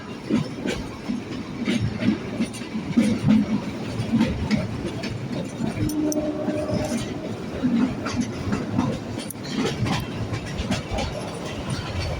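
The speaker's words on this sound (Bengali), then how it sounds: "এই দেখতে দেখতে টয় ট্রেনে যাচ্ছি" Toy train winding through the Shimla hills, a steady rumble of wheels and carriages heard from on board, with faint rhythmic clatter and no talking.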